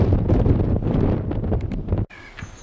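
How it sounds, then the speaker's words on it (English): Strong coastal wind near Rye, England, buffeting the microphone with deep, roaring rumble that cuts off abruptly near the end, leaving quieter outdoor background. "You can tell it's very windy."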